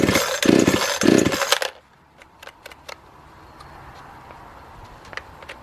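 X-Bull Chinese 52cc chainsaw being pull-started, two loud rasping cord pulls in quick succession, then quiet with faint clicks and handling noises.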